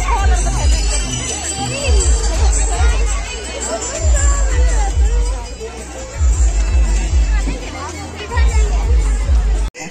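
Loud, dense babble of a crowd fills a wedding party in Ranchi, overlapping voices and chatter close by with occasional clinks and knocks, steady throughout.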